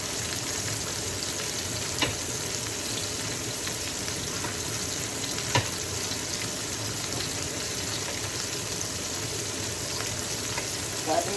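Chopped chicken and onion fry in a pan with a steady, close sizzle throughout, broken by a few faint clicks of stirring.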